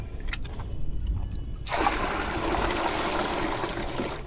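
Water pours steadily into a scrap-metal tin being set up as a guppy tank, a loud, continuous broadband rush that starts abruptly after a quieter moment and keeps going to the end.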